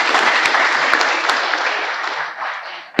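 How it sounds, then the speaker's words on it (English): Audience applause welcoming a guest at a national law conclave, a full, steady burst of clapping from a seated crowd that gradually fades over a few seconds, with a couple of sharp knocks within it. "Please give a round of applause to welcome Manoj ji as well."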